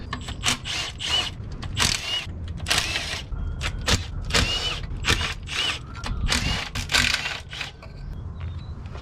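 Ten-millimetre bolts and nuts coming off the oil pan of a Honda B16A engine, a quick series of close, loud ratchet and power-tool whirs in short bursts over a steady shop rumble.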